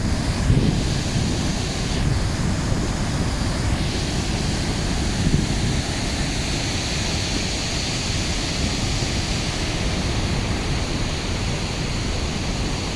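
Water gushing steadily down a waterfall on the Ingleton Waterfalls Trail, a loud, continuous broadband roar with no talking, wind buffeting the microphone now and then.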